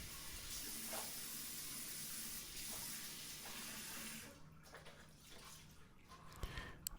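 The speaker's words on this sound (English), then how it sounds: "fill the sink slightly with warm water and rinse the rag of soap, debris, dirt," Warm water runs from a faucet into a bathroom sink while a cleaning rag is rinsed, a steady faint hiss of flow that cuts off partway, followed by quieter splashes and drips.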